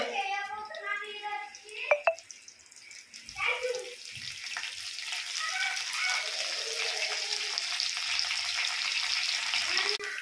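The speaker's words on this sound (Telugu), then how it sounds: "పచ్చిమిర్చి వేసుకోండి. కరివేపాకు కూడా వేసుకోండి." Green chillies and curry leaves drop into hot oil for an upma with omelette. A brief voice and a few clatters come first, then a broad, continuous sizzle of frying builds and holds steady close by.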